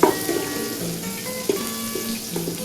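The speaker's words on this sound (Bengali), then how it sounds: "দেখো পেঁয়াজটা ভাজা ভাজা আছে" Onion frying in a pan, a loud close sizzle with crackling bursts and a few sharp pops that carries on steadily through the clip.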